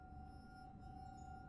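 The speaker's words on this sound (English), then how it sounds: "Like a clinking." A faint glassy clinking rings in the game The Suicide of Rachel Foster, a sustained tonal shimmer with a bright ping near the end over quiet room ambience.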